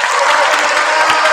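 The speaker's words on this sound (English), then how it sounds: "Can you clap for them, please?" Audience at a middle school winter choir concert clapping for the parents: a loud, dense wash of applause from a large crowd, continuous and unbroken.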